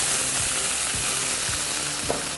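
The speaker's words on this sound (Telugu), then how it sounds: "ఈ ఆకుని ఈ నెయ్యిలో మంచిగా ఫ్రై చేసుకుందాం." Chopped fenugreek leaves fry in ghee with onions, giving a steady loud sizzle broken by soft scraping stirs.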